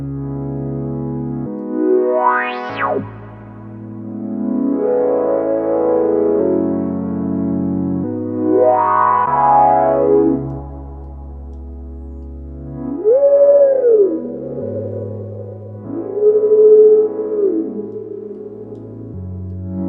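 Moog MoogerFooger synth effect through a UAD Lexicon 224 reverb, a series of sweeping, gliding tones rising and falling with washy reverb tails, heard alone.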